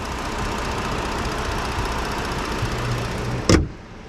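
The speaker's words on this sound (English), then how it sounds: "This engine is running good." A 2014 Ford Explorer police engine idles steadily at low volume, a smooth continuous hum, ending with a brief sharp thump before it quiets.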